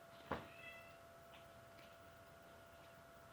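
A house cat gives a single short meow near the start, followed by faint ticking and quiet room tone.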